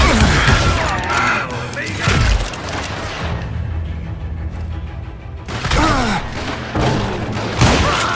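Gunfire from the Western shooter game Call of Juarez Gunslinger comes as loud, repeated shots and bursts with crashing impacts, under and between shouted character voices.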